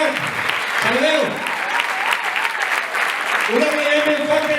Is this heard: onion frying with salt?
no